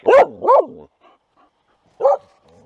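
A neighbor's dog barks two quick loud times close by, then falls quiet except for faint stirring, before one more sharp bark near the end.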